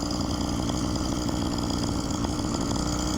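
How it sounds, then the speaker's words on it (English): Phantom 85 hover bike engine with a carburetor idling high and peppy, a steady close buzzing drone with no pauses. "I suppose I could adjust the carburetor to get it to idle down a little bit more"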